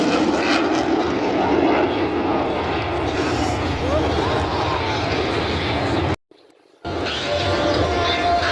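Air Force Thunderbirds jets performing at a Memorial Day air show at Jones Beach State Park, a loud continuous engine roar filling the clip that cuts out briefly near the end, with a crowd and voices mixed underneath.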